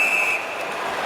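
Referee's whistle at an NHL ice hockey game between Minnesota and Vancouver in overtime: one sustained, shrill tone for about a third of a second, over a steady wash of crowd noise in the arena.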